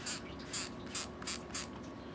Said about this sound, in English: once cleaned off with alcohol, and I'm going to spray it again